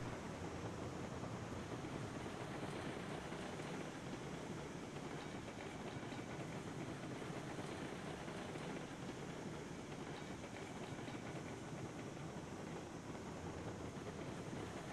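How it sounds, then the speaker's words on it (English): Constant dense rumble and rush of a locomotive running in the Railroads Online video game, a light engine built for speed on flat track, steady and unbroken throughout with no voices. "It's not a super powerful locomotive. It's more meant for flatland speed."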